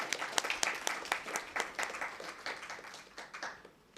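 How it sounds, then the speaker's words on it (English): Applause from an audience in a hall, a scattered patter of individual claps of moderate loudness that thins out toward the end, with no talk over it. "A big round of applause for our resource persons."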